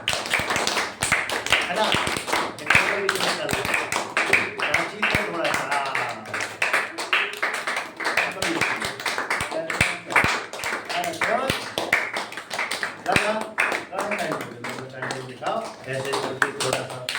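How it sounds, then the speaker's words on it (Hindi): Children in a classroom clap continuously as a group, a dense rapid patter of many hands that holds steady for the whole stretch, with a brief voice briefly heard. "तो सब बच्चे इनके लिए 1 मिनट तक तालियां बजाएं"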